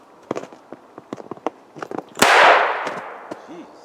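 A camp tripwire alarm fires a single loud, sharp bang, comparable to a .22 rifle shot, that rings out briefly after a series of light clicks and footsteps in an outdoor campsite.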